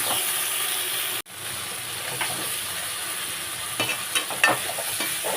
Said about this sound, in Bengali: এবারে ভেন্ডিগুলো দিলাম, ভেন্ডিগুলো দিয়ে এইভাবে নাড়াচাড়া করে নেব, একটু ভেজে নেব।